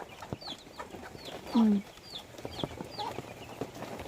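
Hens cluck softly and intermittently close by, with brief chirps scattered through a quiet farmyard background.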